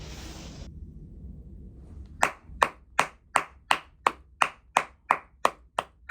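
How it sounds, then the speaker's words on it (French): Steady rhythmic hand claps, about a dozen evenly spaced sharp strikes, follow a stretch of low murmur, close and fairly loud, like an audience clapping along in time. "Applaudissez, applaudissez"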